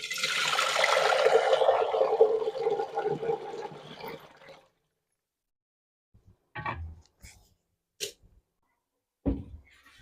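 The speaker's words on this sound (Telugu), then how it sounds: "ఇప్పుడైతే కొంచెం తక్కువ పోసుకుంటున్నాను నీళ్లు" Water pours steadily into a cooking pot in a home kitchen for about four seconds, then a few soft clunks and taps of handling follow in near silence.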